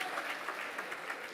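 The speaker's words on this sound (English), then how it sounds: "give it a round of applause" Steady audience applause at a conference indaba, a dense even wash of many hands clapping at moderate distance with no speech over it.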